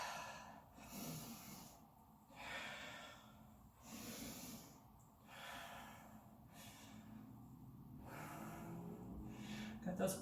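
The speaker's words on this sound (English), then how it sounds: "Those open mouth exhales will help you to release heat" Open-mouth exhales during a sculpt-and-flow workout, soft rhythmic breaths repeating every couple of seconds, faint and close with steady room hiss beneath.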